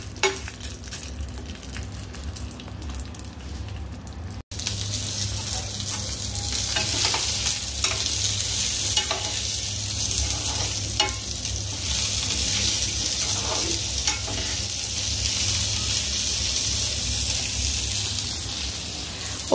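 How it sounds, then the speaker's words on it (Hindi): Roasted vermicelli frying in ghee in a home kitchen pan, a steady loud sizzle with stirring scrapes throughout, starting quieter and swelling after a brief gap, no talking. "यहाँ पे सेवई फ्राई कर रही हूँ घी में।"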